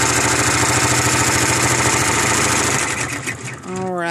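A sewing machine stitches a bat ear onto black pleather, a loud, rapid, even mechanical chatter running continuously before slowing and stopping near the end.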